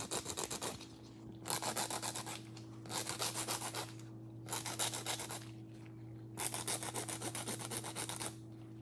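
A diamond bit on an electric nail file grinds gel nails into a coffin shape, giving a steady close buzzing rasp in several long passes broken by brief pauses, over a constant motor hum.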